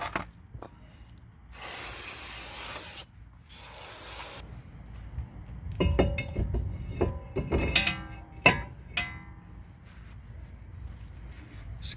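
Two long, steady bursts of aerosol spray hiss onto the brake rotor of a 2015 Toyota Camry, followed by close rubbing and scraping as the rotor is wiped clean.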